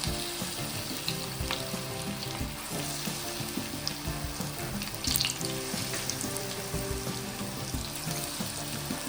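Green pea fritters (matar bonda) sizzle and crackle steadily in hot oil in a wide pan, a dense, continuous frying hiss with small pops and scattered clinks throughout.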